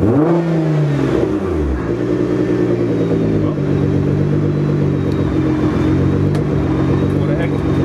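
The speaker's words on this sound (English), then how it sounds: "When this car revs, you can feel the vibration, the bass of it going through your entire body." A 720 bhp Nissan GT-R engine revs with a deep, throbbing roar, sustained and loud nearby, the pitch climbing briefly before settling into a steady growl.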